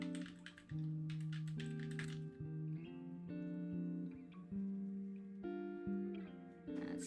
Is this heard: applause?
no